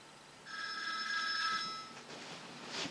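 Telephone ringing indoors, a bright electronic warbling ring lasting about a second and a half, at moderate level, followed by faint room noise.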